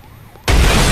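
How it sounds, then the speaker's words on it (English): A loud, close explosion bursts in the Saints Row video game, a sudden wide boom that cuts in halfway through after a quiet stretch and holds at full strength to the end. "Kaboom!"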